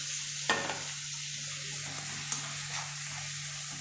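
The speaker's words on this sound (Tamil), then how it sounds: "இது நல்லா வதங்கட்டும்." Tomatoes, curry leaves and green chillies sauté in a pan with ginger and garlic for a green pea kurma, a low steady sizzle broken by a couple of sharp clinks of a stirring spoon.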